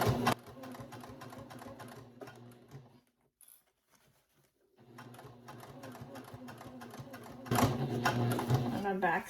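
A sewing machine back-stitches fabric in quick mechanical bursts of needle clatter, pausing briefly in the middle before resuming, then growing louder toward the end; someone talks over parts of it.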